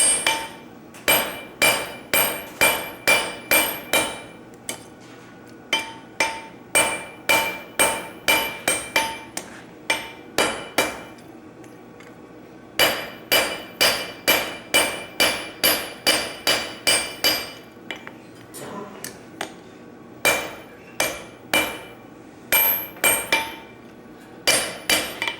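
A blacksmith hammers hot metal to forge a smaller bolt at a smithing conference, with long runs of loud, ringing hammer blows on the anvil in rapid rhythm, broken by brief pauses.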